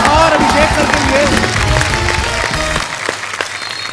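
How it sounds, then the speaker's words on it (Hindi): A studio audience at a comedy talk show breaks into loud, close applause with cheering and crowd noise, voices mixed in, tapering off after about three seconds. "जोरदार तालियां एक बार अजय सर और अभिषेक सर के लिए।"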